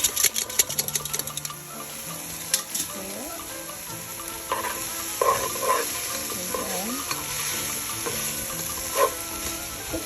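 Meat and onions sizzling in a pan for lasagna, with a steady frying hiss and intermittent clatter and scraping as the mix is stirred, close and moderately loud.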